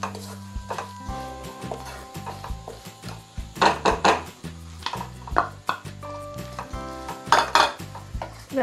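Mushroom and mashed potato masala stirred in a pan, with repeated metallic clinks and scrapes of a spoon against the pan over a light sizzle, close and busy, with music underneath.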